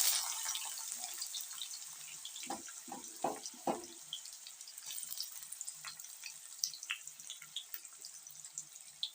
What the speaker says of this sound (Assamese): পিঁয়াজখিনি ৰঙচুৱা হোৱালৈকে অলপ ভাজি ল'ম।